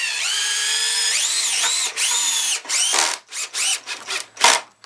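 A power drill whines at rising and falling speeds as it drives a screw into a pilot hole while building a workbench frame, ending in several short bursts of the motor, close up.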